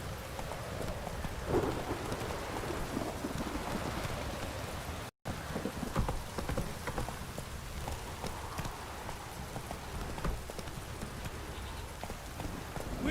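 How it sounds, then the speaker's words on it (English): Steady heavy rain pours down with low thunder rumbling beneath it and a horse's hooves clip-clopping in the video game The Witcher 3, with no voices. "This downpour's a bastard, it is."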